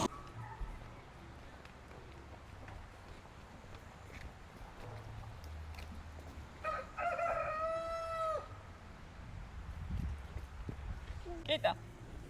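A rooster crows at a zoo, giving one clear drawn-out crow at middle distance over quiet outdoor ambience. A child and an adult talk softly before and after the crow.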